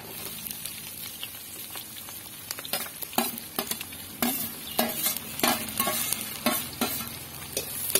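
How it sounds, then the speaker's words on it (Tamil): Chopped onion being stirred and sautéed in a pan for tamarind rice, with quick repeated spatula scrapes and clatter over a continuous soft sizzle, growing busier as it goes. "பாருங்க வெங்காயம் வந்து ஒரு அளவுக்கு நல்லா வதங்கி வந்துடுச்சு."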